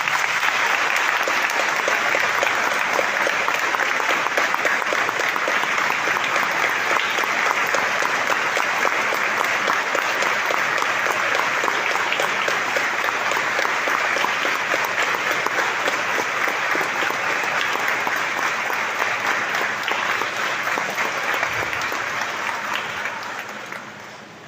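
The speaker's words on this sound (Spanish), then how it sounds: "del caminar sacerdotal del Padre Eleuterio, para quien hoy pido un fuerte aplauso" A church congregation gives a priest sustained applause, a dense, loud wash of clapping that holds steady for over twenty seconds before tapering off.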